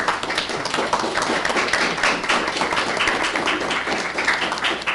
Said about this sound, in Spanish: les damos un aplauso a las personas que nos acompañan esta mañana